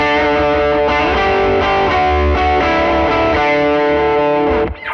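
An electric guitar played through a Dumble-style overdrive pedal gives a thick, saturated, sustained tone with ringing chords and notes that fill the whole passage and fade off at the very end.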